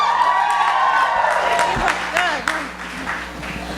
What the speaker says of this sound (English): put your hands together one more time